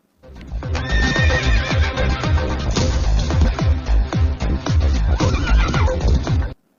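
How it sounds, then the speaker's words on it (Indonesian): A wild horse neighs and whinnies loudly and close for several seconds, with repeated hoof clip-clops and snorts throughout. "asalkan Siddu bisa menjinakkan kuda tersebut"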